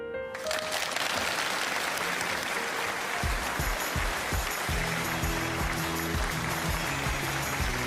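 A studio audience at a televised lecture show applauds the speaker in a broad, sustained wash of clapping. Tonal music enters about halfway and plays under the continuing applause.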